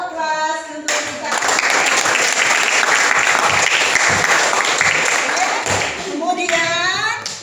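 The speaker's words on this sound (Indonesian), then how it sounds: "Berikan aplaus untuk kita." Sustained applause from a classroom of children, loud and steady for several seconds, with a teacher's voice speaking briefly before and after the clapping.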